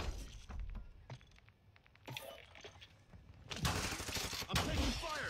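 Video game gunfire rattles in scattered bursts and single cracks, fairly faint at first and then denser and louder toward the end.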